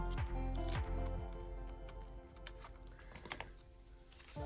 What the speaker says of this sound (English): Just gonna cut this out.